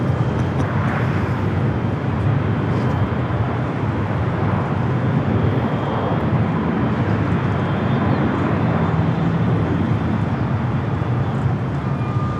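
Aircraft taxiing at Los Angeles LAX airport, a steady broadband engine roar holding at constant level throughout, with no voices.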